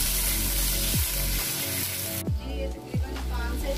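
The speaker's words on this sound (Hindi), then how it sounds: "तकरीबन 5 से 6 मिनट मैंने इसे अच्छी तरह से फ्राई किया है" Vegetables and chicken fry in a pan with a steady broadband sizzle that cuts off abruptly partway, followed by a few soft stirring knocks.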